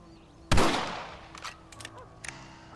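A single loud rifle shot rings out in a Red Dead Redemption cutscene, a sharp crack with a long decaying tail, followed by a few fainter clicks and rattles.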